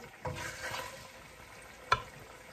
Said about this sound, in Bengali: সেই কড়াইয়ের মধ্যে একটু তেল দিলাম, আর একটু তেজপাতা, লং, দারচিনি, গোলমরিচ, এই মশলাটা দিয়ে দিলাম